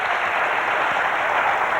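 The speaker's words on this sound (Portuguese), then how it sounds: "salva de palmas para ele." Applause for a guest on a talk show, a dense, steady burst of clapping from an audience, loud and brief with no voices over it.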